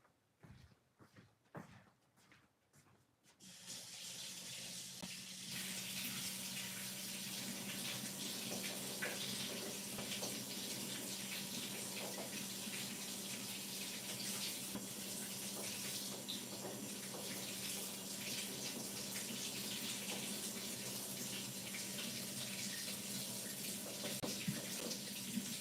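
Water runs steadily from a kitchen tap for peppers being washed, starting after a few seconds of quiet handling noises and then holding a continuous close splashing gush.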